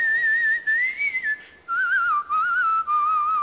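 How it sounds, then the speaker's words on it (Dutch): A person whistles a melodic, wavering tune alone, clear and close, with held notes sliding up and down and brief pauses for breath. "Fluiten, dat is, ja, dit is fluiten"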